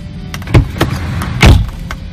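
A car door opened and shut during key programming with a scan tool, two thuds about a second apart with faint clicks around them, close and fairly loud.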